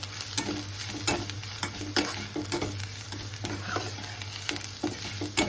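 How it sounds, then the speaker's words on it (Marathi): Spices with coriander powder and Maggi masala are sautéed in a pan for dum aloo, a low sizzle broken by repeated sharp scrapes and taps of a spatula at an uneven rhythm, no voices. "आपले हे सगळे मसाले परतले ना छान मसाले परतून घेते"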